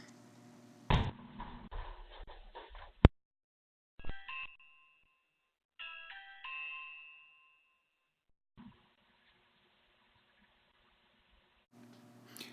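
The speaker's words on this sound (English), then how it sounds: "can even be used as a doorbell, as my neighbor is about to demonstrate right here" A few bright electronic chime tones ring out separately, with clicks and clattering handling noise in between and long quiet gaps.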